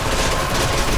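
Dense, continuous gunfire rattles loudly from start to end in the shooter game Fear 2, a full second of sustained shots with no talking.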